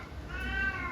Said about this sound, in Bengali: হ্যাঁ, বিড়াল চিল্লাচ্ছে